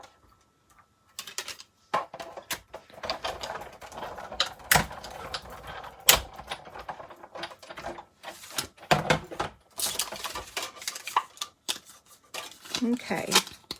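Scissors cut out paper card pieces, with repeated crisp snips and rustling handling at close range, broken by short pauses while someone talks.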